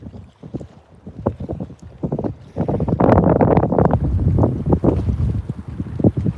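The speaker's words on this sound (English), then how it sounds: "hey, it sounds a little breezy. It's a lot breezy out here right now." Strong, gusty wind blows across Lake Lanier during a bass-fishing outing, a loud continuous rush with surging buffets that swell in the second half and hit the microphone hard, with no talking.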